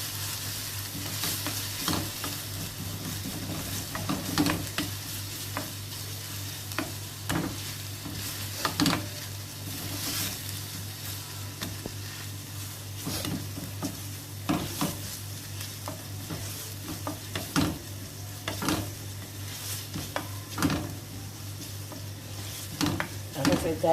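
Grated carrot fries in olive oil in a pan, a continuous steady sizzle with a low hum beneath, broken by repeated scraping knocks of a utensil stirring at irregular intervals.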